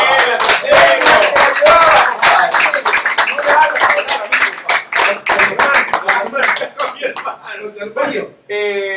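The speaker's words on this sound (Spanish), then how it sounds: "Y un aplauso para Daniel" A studio audience claps for Daniel Flores on a Spanish-language TV variety program, a dense burst of applause over music and voices that thins out toward the end.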